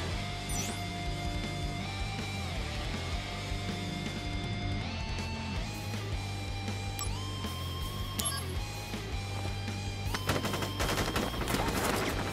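Soldiers fire guns in the Crisis Core Final Fantasy 7 Reunion video game, with rapid gunfire bursts under loud, continuous game music that grow denser toward the end.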